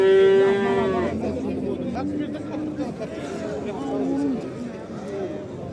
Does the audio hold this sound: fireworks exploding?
no